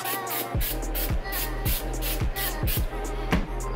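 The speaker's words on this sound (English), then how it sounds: "I'm gonna get some brake cleaner and wipe off that." A can of brake cleaner sprays onto a clean rag during a twin disk clutch install on a K24A2 AWD engine, a continuous near hiss beneath rhythmic background music.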